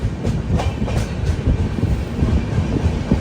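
Kerala Express train rolling on the rails near Hazrat Nizamuddin station, New Delhi, with a steady, loud rumble and repeated clickety-clack wheel beats running throughout.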